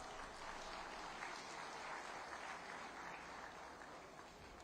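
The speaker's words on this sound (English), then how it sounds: "I want to please give him a big round of applause for that." A large audience at a Lagos book unveiling for the governor gives a sustained round of applause, dense and even throughout, heard faintly from a distance with no voices over it.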